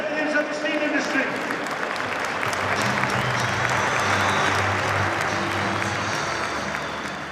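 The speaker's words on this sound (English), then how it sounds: "It was emotional walking out onto the pitch with a standing ovation from the Swansea supporters and the Chelsea supporters" Swansea and Chelsea supporters give a standing ovation at a football pitch, with dense sustained applause from a large stadium crowd filling the whole stretch, loud and steady, with voices mixed in.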